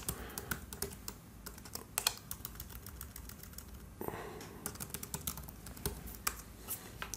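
Rapid keystrokes on a computer keyboard as a password is typed, clicking in uneven bursts with a few louder taps, close and clear, and nobody speaking.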